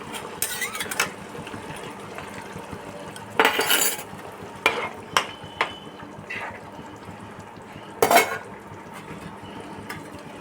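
Spiced water is poured into a pan of cooking potatoes and fish, bringing short bursts of splashing and sizzling along with scattered utensil clinks against the pan at a low level.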